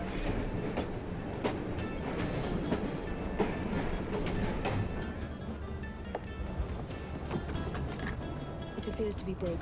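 Train running in Assassin's Creed Syndicate, a continuous rumbling roll with rhythmic clacking and metallic clatter, steady and fairly loud, with people talking over it.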